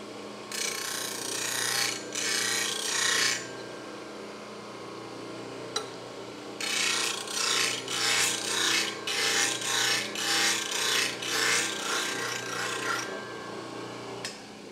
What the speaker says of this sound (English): I'll go through and I'll grind that till it comes to a point.